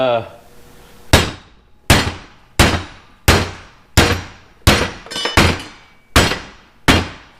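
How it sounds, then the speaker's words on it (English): A big hammer strikes wheel studs out of a hub in about nine loud, ringing metallic blows at a steady pace, each clang decaying before the next. "Just find a great big hammer"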